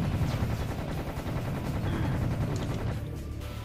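Rapid gunfire from the shooter game Serious Sam: The Second Encounter, a loud, steady stream of shots with heavy low rumble, continuing for several seconds and easing slightly at the end.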